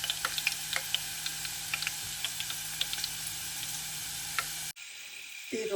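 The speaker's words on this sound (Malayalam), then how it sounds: "എണ്ണയുടെ കളർ ഒരു ഗ്രീനിഷ് കളറായിട്ടുണ്ട്. ഇപ്പോൾ നന്നായിട്ട് നല്ല തിളച്ച് വരുന്നുണ്ട്." Rosemary hair oil, turned greenish, boils over a low flame in a pan with a continuous sizzling hiss and scattered crackling pops. Near the end the sizzle drops out abruptly, replaced by a brief handling clatter.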